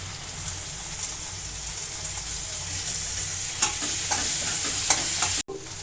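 Okra curry fries with turmeric in a pan and is stirred. A steady, loud sizzle runs under scraping stir strokes, and the sound cuts off abruptly near the end.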